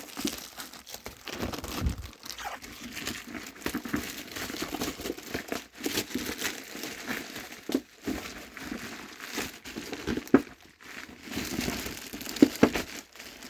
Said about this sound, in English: There's so much bubble wrap, it's actually stuck in it.